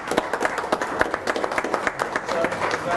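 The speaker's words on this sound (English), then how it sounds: "Let's give this department a round of applause," At a county commissioners' public meeting, people applaud a county department, a fairly close patter of many irregular claps that runs steadily throughout at moderate loudness.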